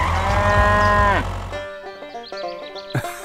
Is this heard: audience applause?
no